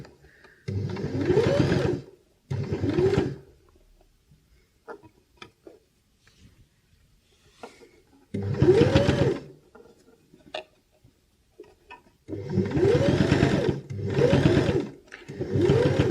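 A domestic sewing machine stitching a drawstring channel in fabric for a small reusable coffee or tea bag, in several short, close bursts of fast mechanical whirring separated by quiet pauses with faint handling clicks.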